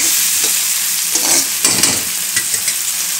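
Onions sizzle and fry in a pan while being stirred for a spinach and prawn curry, a steady close crackle with scraping stir sounds and brief louder bursts, no talking.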